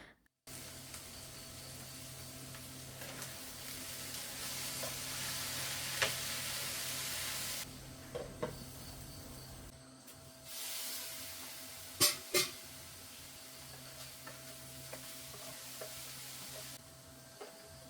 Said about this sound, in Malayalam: പെരി ഇടയ്ക്കൊക്കെ ഒന്ന് ഇളക്കി കൊടുക്കുന്നുണ്ട് കേട്ടോ, അടി പിടിക്കാതിരിക്കാൻ.